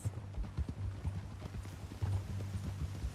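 Horse hooves clip-clop steadily on the ground in the Western video game Red Dead Redemption 2, a close, even walking rhythm over a low ambient bed.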